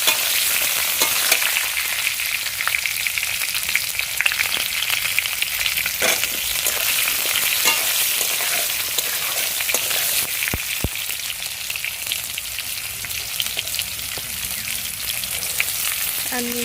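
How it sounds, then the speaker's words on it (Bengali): Pointed gourd (potol) frying in oil in a pan, a loud, continuous close sizzle with crackling spatter and occasional clinks of stirring throughout. "আগে পটলগুলো একটু ভালো করে ভেজে নিতে হবে"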